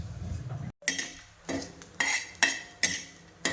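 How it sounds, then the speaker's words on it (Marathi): Bay leaf, peppercorns and cloves dry-roasting on a griddle, with a series of sharp metallic scrapes and clinks of a utensil against the pan, about five distinct strokes in close, steady succession. "आणि त्यातच तेजपत्ता आणि मिरे आणि लवंगा त्यातच मी भाजायला टाकले आहे."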